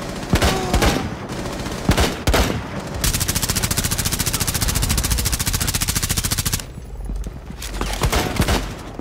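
Light machine gun fire in the video game Rainbow Six Siege: a few scattered loud shots, then a long, rapid, sustained automatic burst, followed by more sporadic shots, with no talking.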